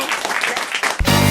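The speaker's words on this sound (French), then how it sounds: "On vous remercie, on vous applaudit." A studio audience applauds with a brief, dense burst of clapping lasting about a second, cut off abruptly by a sustained tone.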